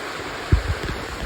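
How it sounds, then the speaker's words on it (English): Steady wash of falling water from a waterfall beside a cave on Summersville Lake, a broad continuous hiss with a couple of low splashy thumps near the start. "Waterfall in front of me."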